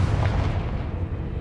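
A Confringo fire spell blast in Hogwarts Legacy, a single deep booming burst that rolls off into a rumbling tail, alone without talk.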